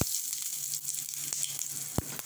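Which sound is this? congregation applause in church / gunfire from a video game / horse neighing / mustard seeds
mustard seeds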